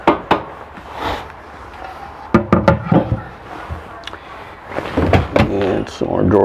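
Drawers on metal glides in a 2017 Forest River Sunseeker 2400WSD motorhome are slid open and shut, giving several sharp close knocks and sliding rattles, with someone talking between them.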